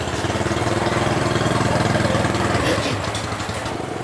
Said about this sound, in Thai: เดี๋ยวนะให้รถซิ่งไปก่อนฮะ